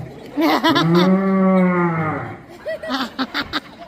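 A buffalo lets out one long, loud, drawn-out moo in a comedy sketch about the god of death, followed by a few shorter grunting calls.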